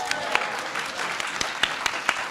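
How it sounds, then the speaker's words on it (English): Audience applause at a youth socialist conference, a steady wash of many hands clapping close by with a few sharper individual claps standing out, lasting a couple of seconds. "round of applause for that"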